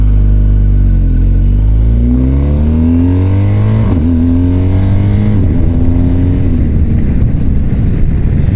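A vehicle engine loud and close, pulling away from a gas station and accelerating through several gears, each rising pitch sweep broken by a shift, ending in steady road and wind roar.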